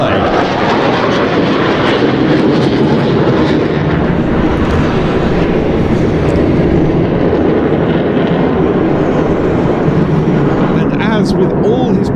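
A Dassault Rafale fighter with twin Snecma M88-2 turbofans roars through an air display at NATO Days in the Czech Republic, a loud continuous broadband jet rumble with a commentator's voice running underneath.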